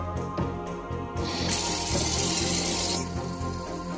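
Tap water running into a pot while making ramen noodles, a steady close rush of spray that swells louder partway through and eases slightly near the end, with a few light clinks at the start.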